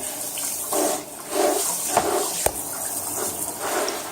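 A shower sprays a steady, dense hiss of water onto a Barlii dry bag to mimic a heavy rainstorm, with splashing that swells and dips and a couple of sharp knocks, close up and with no talk.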